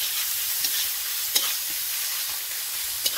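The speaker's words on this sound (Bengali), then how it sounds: "আদা রসুন পেস্ট দিয়ে দিলাম, শুকনো লঙ্কা, পেঁয়াজ বাটা একসাথে দিয়ে মাখিয়ে নেবো।" Ginger garlic paste, dried chilli and onion paste fry in a pan with a loud, dense hissing sizzle and a few soft stirring clicks, with no talking.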